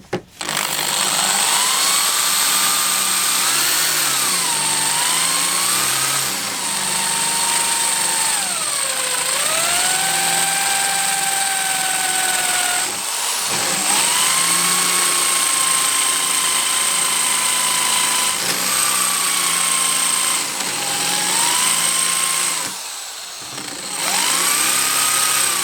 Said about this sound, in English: So I may not drill through it all the way, it depends how long it takes.